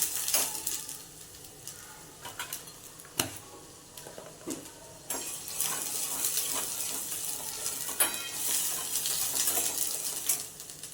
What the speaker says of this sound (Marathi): गॅस चालू हे चांगला मसाला परतून घ्यायचा